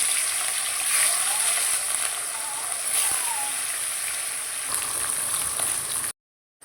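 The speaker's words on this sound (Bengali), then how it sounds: "এবার আমি মাছের পিসগুলো ছেড়ে দেবো।" Pieces of catla fish fry in hot oil in a kadai, giving a continuous close, rain-like crackling hiss that runs steadily for several seconds and then cuts to silence.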